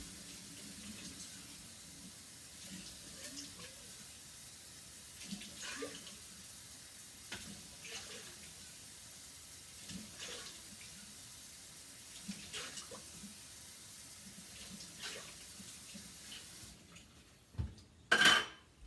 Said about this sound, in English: 3 cups of hot water